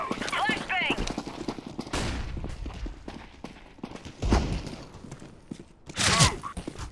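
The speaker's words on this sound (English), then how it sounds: "Grenade out. Throwing flashbang." In a Counter-Strike (CSGO) match, a flashbang grenade is thrown amid bursts of gunfire, footstep-like thuds and shouted voices. The bursts come as loud, sharp hits near the start, middle and end.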